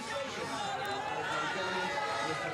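A Spanish crowd at the Aragon World Superbike race makes a distant, steady wash of crowd noise, the chanting for rider Toprak blurred into a continuous roar, with a voice speaking over it.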